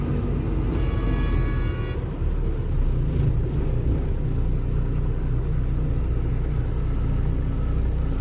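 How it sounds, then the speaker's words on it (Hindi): Cars passing on a narrow single-lane road during a long road trip, a steady rumbling engine and tyre noise that swells and lingers with no talking. "सामने से भी गाड़ी आ रही है"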